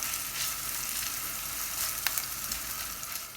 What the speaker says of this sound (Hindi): इसको भी हमने फ्राई कर लेना